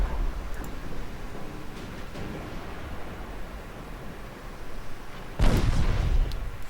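Warship guns firing armor-piercing shells in the naval battle game Ultimate Admiral: Dreadnoughts: a low, rumbling backdrop of distant gunfire, then one heavy, booming salvo near the end.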